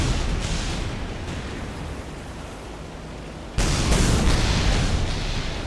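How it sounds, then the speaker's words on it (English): Gunfire striking a cargo hulk in the naval combat game Battlestations Midway, a continuous roaring wash of explosion noise that swells suddenly louder midway through, dense and booming with no talk. "Shoot that cargo hulk 5 times"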